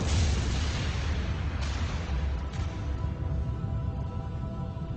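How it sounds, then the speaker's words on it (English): A deep, rumbling blast of a comet striking Earth roars and slowly fades, heavy low-end booming with a couple of faint crackles over a few seconds. "The biggest explosion of all time."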